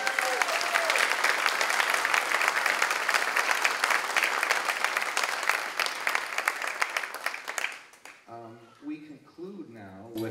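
A holiday pops concert audience gives the band a dense, sustained round of applause for about eight seconds, loud and continuous, before it thins out as a voice begins speaking over the fading claps.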